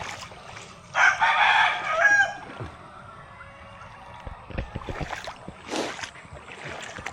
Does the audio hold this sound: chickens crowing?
yes